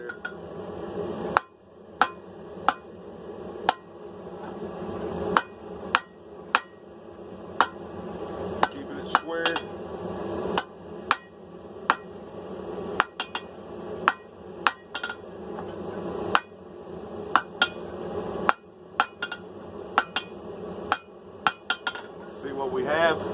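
Hot steel is struck on an anvil while forging flat bit tongs, sharp ringing hammer blows landing in a steady rhythm of roughly twenty strikes, close and loud, with short pauses between runs.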